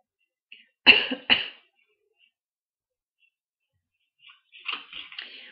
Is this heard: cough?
yes